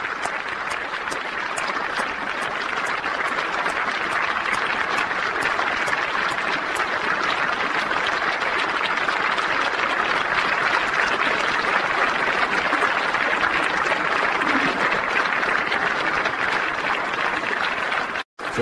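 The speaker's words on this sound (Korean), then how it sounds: "지금 박수로 박근혜 대통령의 입장을 환영하고 있습니다." Sustained crowd applause at a political gathering amid the impeachment push, welcoming President Park Geun-hye's statement; dense, steady clapping at an even level for the whole stretch before cutting off abruptly at the end.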